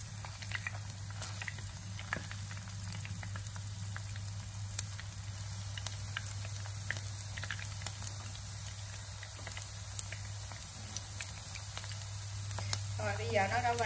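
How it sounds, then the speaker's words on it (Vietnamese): Sausages fry in a pan with a steady, close sizzle and crackle, broken by occasional pops and the scrape of stirring, while a low constant hum runs underneath. "Các bạn chiên nó mình đảo qua cho nó chín đều hai bên."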